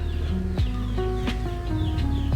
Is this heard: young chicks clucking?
yes